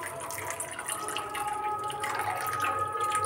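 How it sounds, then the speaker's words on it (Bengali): Water is poured into a pan of peas on a low gas flame, a soft trickling and splashing that holds steady and rises a little toward the end, with no voices. "তো বন্ধুরা চলো জলটাকে আমি অ্যাড করে নিই।"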